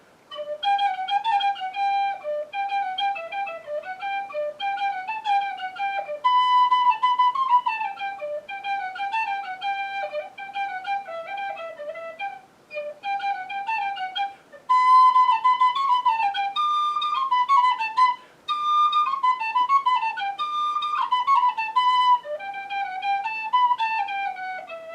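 A penny whistle, a tin whistle bought in Ireland, plays a lively, continuous melody of bright, pure notes with quick ornamented runs and brief pauses between phrases, solo and fairly close with no talking.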